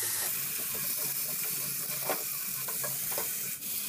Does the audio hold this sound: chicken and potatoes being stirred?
yes